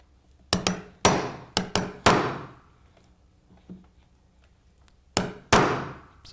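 A hammer taps a chisel to remove a window glazing bead: sharp, close knocks, some in quick pairs, separated by quiet gaps.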